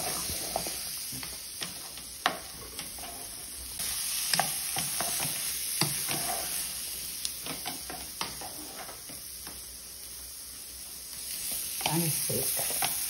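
Dried salted beef frying in a pan, stirred with quick scraping strokes over a steady, faint sizzle, with a continuous high hiss throughout.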